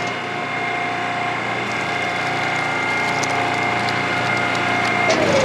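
Firewood processor pushing split log pieces out, a steady mechanical hydraulic drone with tonal hum and faint woody knocks, ending in a brief shift in pitch, close and continuous without talk.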